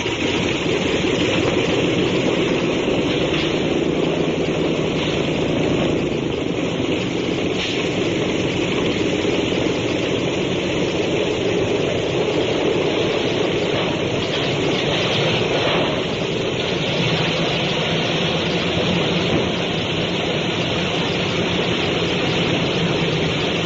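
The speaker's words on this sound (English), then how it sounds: "Stand by to start engines. Stand clear propellers." Propeller aircraft engines start and settle into a loud, continuous roaring drone that stays steady and close throughout, with no voices.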